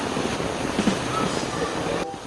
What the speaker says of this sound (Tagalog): Ang lakas ng ilog.